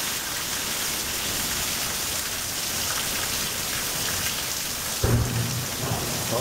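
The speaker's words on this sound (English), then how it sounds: "the rain coming down sideways" Heavy rain pours down steadily in a storm, driven sideways by the wind, with a sharp thunderclap or crack near the end. No one speaks.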